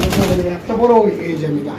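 Pigeons at a pigeon market, including large Spanish racing birds, give a brief low warbling coo amid nearby market bustle and chatter.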